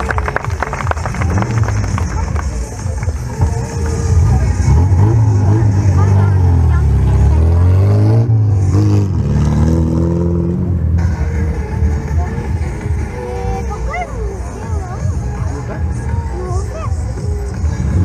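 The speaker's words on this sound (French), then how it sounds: "Les deux voitures vont se suivre l'une derrière l'autre." Stunt cars rev and drive at a Hell Drivers show in Le Guilvinec, giving loud rising and falling engine sweeps that swell mid-clip, under a French announcer's voice and crowd murmur.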